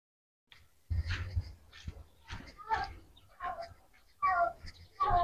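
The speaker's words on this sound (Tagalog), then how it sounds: "Oh, mayroong pusa." A cat meows several times in a cemetery, with fairly close calls coming in short bursts through the clip and a person talking intermittently nearby.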